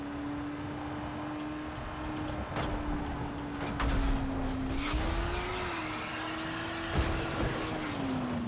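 A car engine in the video game Dying Light runs with a steady droning hum that wavers in pitch, mixed with rattles and occasional clunks. The sound is continuous and moderately quiet, with no speech.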